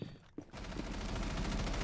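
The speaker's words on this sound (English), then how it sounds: "We hear gunfire." Gunfire in a Rainbow Six collegiate esports match: after a brief sharp crack, a dense, continuous burst of rapid shots fills the rest of the moment at steady loudness.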